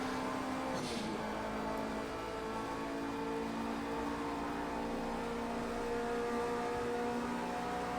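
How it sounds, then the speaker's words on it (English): A simulated Nissan R89C Le Mans race car in Project Cars 2 at Le Mans gives a steady, droning engine note, with a brief hissing burst from the turbo dump valve venting near the start. "Hear that dump valve just venting boost pressure as I change gear."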